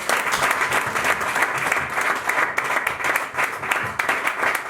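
A church congregation bursts into sustained applause, dense rhythmic clapping from many hands with a few voices mixed in, steady and lively throughout.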